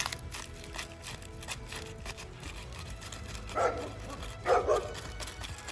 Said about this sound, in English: the squirrel is doing its best to peeve off the dogs